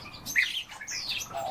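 European bee-eater (Merops apiaster) giving several short trilling calls at moderate distance, a few quick chirps in succession over a quiet background.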